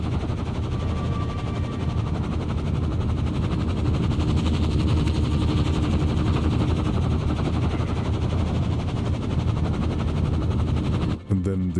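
A loud, constant mechanical roar with rapid chopping pulses of a video game helicopter's rotor heard close up, running steadily until it abruptly cuts off.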